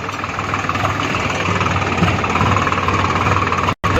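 A tractor engine runs loud and close with a steady, rough chugging drone throughout. It cuts out for a split second near the end.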